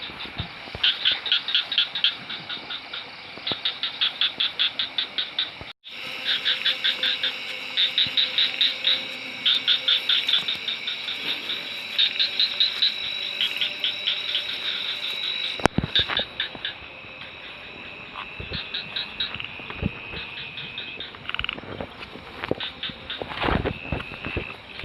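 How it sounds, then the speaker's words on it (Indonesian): Frogs croaking in dense, rapid pulsed trills outdoors, a continuous chorus with brief breaks and some nearby rustling and handling noise. "Suaranya doang itu kodok. Kodoknya nggak tahu di mana."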